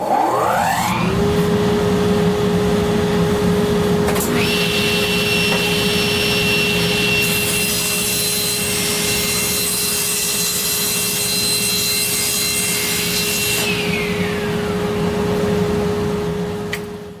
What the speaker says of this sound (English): I'm going to square the edges of these bridges with the table saw